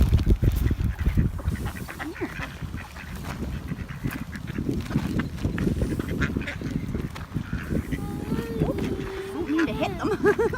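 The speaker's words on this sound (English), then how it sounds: "There, the goose gets some food too. Gonna throw some to the ducks." Ducks and geese crowd close while being fed, a steady mix of nearby quacks and honks over scuffling and splashing, with a person talking through much of it.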